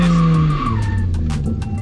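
A car spinning out under too much throttle while doing donuts, the engine roaring loud and close as the tires squeal and skid, then fade into a rough, scrubbing slide.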